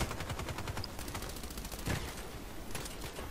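Rapid automatic gunfire from the shooter video game Contract Wars, with an RPK-74 and PM pistol in play, rattling continuously in fast bursts, loud and dense, with no talk over it.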